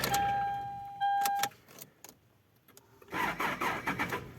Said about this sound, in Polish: kręci rozrusznik tym silnikiem